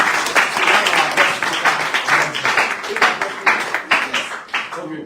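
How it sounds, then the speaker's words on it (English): An audience at a speaking event claps in a round of applause, many hands beating in loose, pulsing waves that rise and dip, close and fairly loud, with a hint of voices mixed in. "Please give yourself a round of applause once again"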